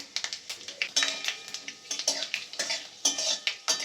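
Panch phoron spices with a dried red chilli and bay leaf sizzle in a pan for a Bengali spinach dish. Quick, uneven bursts of crackle and popping mix with the scrape and clink of a stirring utensil, close and moderately loud.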